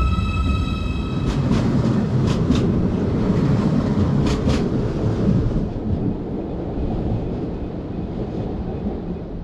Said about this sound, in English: Our train pulls in fresh from the depot about 20 minutes prior to departure.